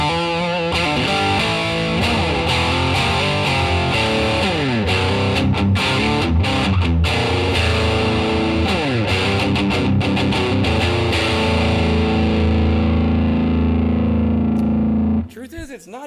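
Electric guitar through a Bugera V22 EL84 tube amp at full gain, mids scooped and treble and bass up, ringing loud and distorted with sustained chords and quick picked runs for about fifteen seconds before cutting off.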